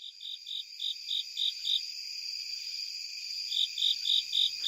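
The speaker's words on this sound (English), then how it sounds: "Japanese burrowing cricket in September from under my car in a Maryland state forest." A Japanese burrowing cricket calling in September in a Maryland state forest, a steady, high-pitched trill pulsing in regular bursts, with a brief pause midway, fairly faint against a quiet background.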